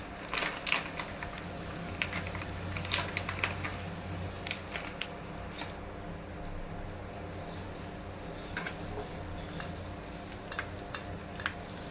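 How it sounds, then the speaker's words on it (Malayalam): Cashews and raisins frying in a pan, giving faint, irregular crackles and sizzling pops over a low background hiss. "ഞാൻ കുറച്ച് മുന്തിരിങ്ങ കൂടെ വറുത്തെടുത്തു."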